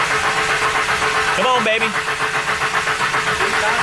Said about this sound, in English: It's probably just gonna sound like we have a terrible exhaust leak.